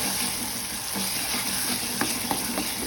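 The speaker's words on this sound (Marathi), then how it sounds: "चमचा मीठ घालून त्याला चांगलं मिक्स करायचं आहे" Salt being stirred into cooked tomato masala for a poppy-seed bhaji: a soft continuous sizzle with a couple of light spoon taps against the pan near the end, close and without talk.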